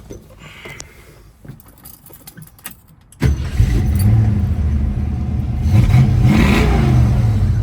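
Quiet clicks and rattling give way to a 1968 Ford Mustang's 302 V8 with aluminum heads cranking and catching, then a loud, throaty idle with a couple of revs.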